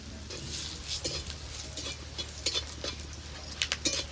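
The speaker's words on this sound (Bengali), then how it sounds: "শুকনো লঙ্কাটা তেলে ভেজে নামিয়ে নিচ্ছি" Dried red chillies fry lightly in oil with stirring and occasional metallic scrapes and clinks, close by, no voices.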